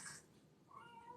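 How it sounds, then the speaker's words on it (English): A kitten meows briefly indoors, one short meow followed by a softer second cry, somewhat in the background. "She's meowing in the background."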